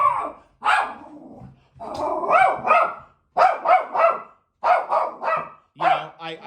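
A dog barks close by in repeated clustered bursts of sharp, yappy barks with brief growly undertones, several quick barks per burst separated by short pauses, with no talking over them.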